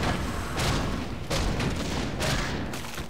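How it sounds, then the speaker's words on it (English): Mortar team artillery fire in Warcraft 3, heard as three or four dull booming volleys spaced roughly evenly, each a broad burst fading into a rumbling battlefield din. "Actually, it's a really good thing I have these mortars,"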